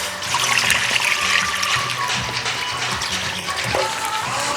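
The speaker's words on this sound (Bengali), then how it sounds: "এবার দিয়ে দেবো জল।" Water poured from a vessel into a wok set on the stove with a stand inside, ready for steaming pitha; a steady close trickle and splash runs throughout.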